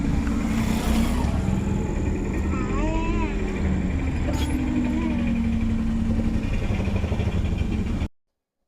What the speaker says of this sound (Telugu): చూడండి ట్రాఫిక్ ఎంత ఉందో.